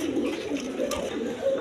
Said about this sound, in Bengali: দর্শকবৃন্দ এখানে এক পেয়ার লক্ষা কবুতর আছে